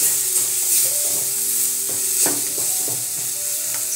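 Spices being stirred in a frying pan for a country chicken curry, with steady scraping strokes and a continuous sizzle, close and loud with no talking.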